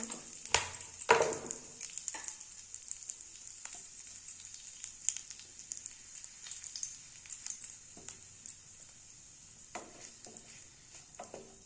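Panch phoron and a dried red chilli frying in hot oil for a bitter gourd dish, giving a steady close sizzle with a few sharp spits and crackles early on, no talking.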